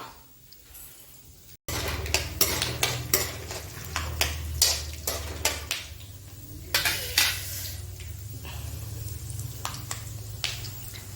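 Curry leaves tossed into peanuts frying in a pan bring a loud burst of sizzling, followed by repeated scraping and clinking of a spoon stirring against the pan, with the hiss continuing underneath.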